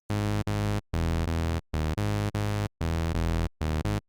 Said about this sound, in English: the first bass is the Plucky Bass. It sounds like this.